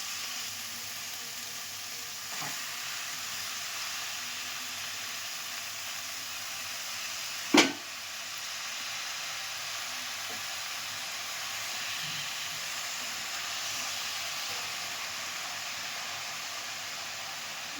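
Lote greens hitting a hot pan give a steady, close, even sizzle and hiss that runs throughout, with one sharp click near the middle and no talking.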